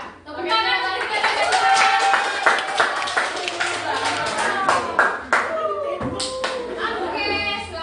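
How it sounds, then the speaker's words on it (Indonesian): Students in a school gathering clap their hands together, loud, fast and uneven clapping from a group close by, with a few young voices calling out over it. "Tepuk tangan untuk kita."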